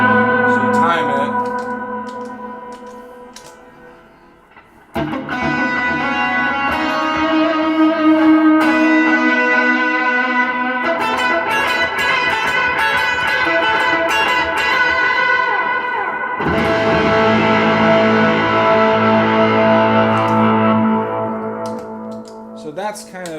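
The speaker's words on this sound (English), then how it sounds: "So that's kind of an idea of where I would use the distortion paired with the whammy." An electric guitar played through a whammy pedal with distortion, shifting an octave up and down, sustains thick, saturated chords and bending notes loud and continuous, with a brief fade near the start.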